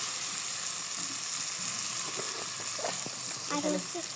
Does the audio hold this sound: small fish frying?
yes